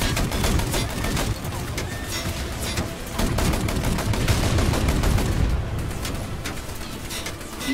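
Rapid gunfire and machine-gun bursts from the War Thunder video game crackle in dense repeated volleys at moderate level, with a brief pause partway through before the firing resumes.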